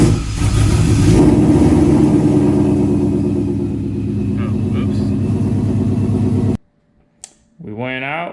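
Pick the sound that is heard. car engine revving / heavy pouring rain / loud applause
car engine revving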